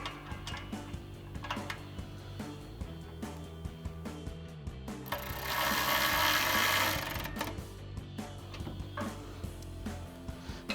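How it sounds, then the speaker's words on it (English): A ratchet with a 13mm socket tightening the bolts of a Barricade HD stubby winch-mount front bumper on a 2021-2023 Ford Bronco, giving close, rapid, repeated clicking with a brief hissing swell midway. "grab our provided 5mm Allen wrench, as well as a 13mm socket on our ratchet"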